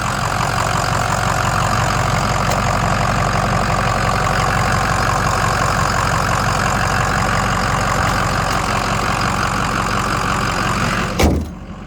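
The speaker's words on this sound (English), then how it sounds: "I know that's super loud because it's a diesel" The diesel engine of a 2006 Ford F250 pickup truck idles loudly and close under the open hood, with a steady rumbling clatter that holds for nearly twelve seconds before a brief clunk near the end.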